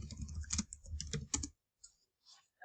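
Fast, close typing on a computer keyboard, a quick burst of crisp clicking keystrokes followed by a few scattered lighter taps, with no talking.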